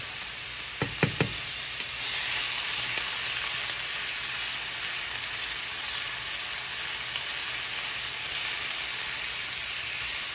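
Beef sizzling in a hot pan, a steady bright hiss of frying that runs the whole time, with a couple of sharp knocks near the start.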